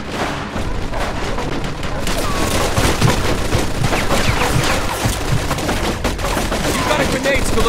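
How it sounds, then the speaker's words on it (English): Sustained machine gun fire in the Mafia 2 video game's first mission: a loud, dense, continuous burst of rapid shots with booming impacts mixed in, running the whole stretch. "Looks like we found the machine gun!"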